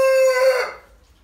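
A Brahma rooster crows once, close and loud, a sustained harmonic call that breaks and fades within about a second, with no voices present.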